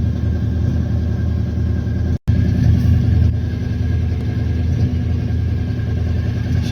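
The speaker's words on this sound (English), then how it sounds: "Things you like to see when your vehicles actually start the way they're supposed to." A car engine runs with a steady low rumble and mid-pitched drone, broken by a brief dropout, then continues evenly at moderate level without voices; the vehicle's Turbo 400 transmission sounds noisy.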